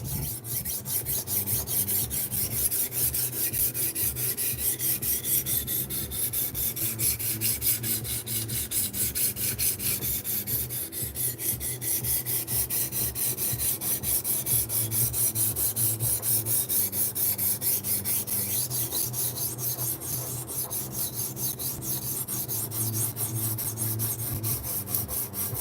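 Knife blade rasped steadily against a sharpening stone on a TSPROF Kadet guided sharpener, smoothing a reprofiled edge; close, continuous rhythmic scraping strokes run the whole time with no talking.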